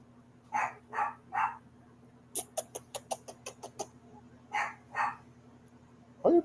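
A dog barks repeatedly from another room, first a few spaced barks, then a quick run of sharp yips, then two more barks, moderately loud with a steady hum underneath.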